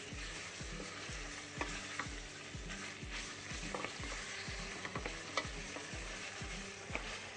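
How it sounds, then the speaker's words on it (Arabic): Chicken frying with tomato paste in a pan, with a steady close sizzle and regular rhythmic scraping clicks of stirring against the pot. "نحطوا الطماطم معجونة ونقليوها مع الدجاج"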